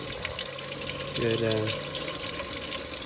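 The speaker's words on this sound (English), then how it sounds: "You can see inside there the water coming out of the shower caps." Water running and trickling inside a vertical Tower Garden growing tower, a steady splashing flow close by, with someone talking throughout.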